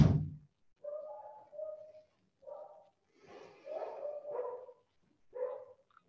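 A beagle barking indoors, a series of separate yelps and barks at moderate distance, spaced irregularly with quiet gaps between.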